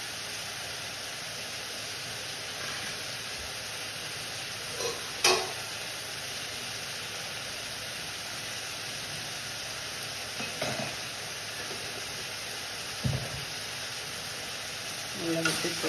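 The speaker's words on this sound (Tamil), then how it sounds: "நல்லா உப்பு போட்டு வதக்கிட்டோம்" Vegetables sautéing with salt in a pan give a soft, steady sizzle and crackle throughout, with a few brief stirring scrapes and knocks of a spoon against the pan, quiet and close.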